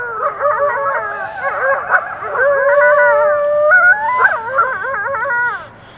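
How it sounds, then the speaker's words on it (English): A pack of coyotes howling and yipping at night near a cemetery, loud overlapping wavering howls and yips that rise and fall continuously before trailing off. "But I do hear the sound of coyotes in the background."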